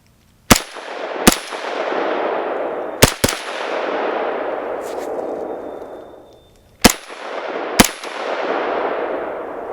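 A Foxtrot Mike M102 rifle fitted with a suppressor fires loud, sharp single shots, mostly in close pairs, each followed by a long hissing echo that dies away slowly outdoors.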